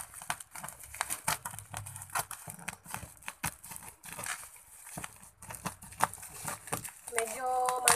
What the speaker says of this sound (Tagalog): may gunting po ako ating gupitin na